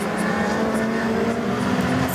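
A WTCC touring race car at the Belgium round creeping slowly around the circuit, a steady low engine drone held at an even pitch throughout, with no revving.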